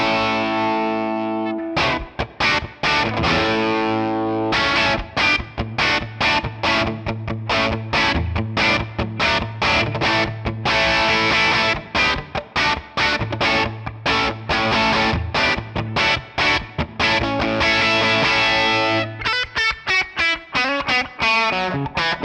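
Electric guitar played through a 1967 Sound City One amp on an angry distorted preset with bright reverb, loud and dense with chugging strummed chords and riffs running continuously, ending in a ringing decay.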